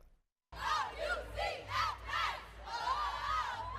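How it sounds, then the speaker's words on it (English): UCF track and field team shouting and cheering after winning the American Athletic Indoor Championship title, a close group of voices erupting suddenly from silence into rhythmic, chant-like rising whoops that pulse several times. "The UCF track and field team there cheering their big win"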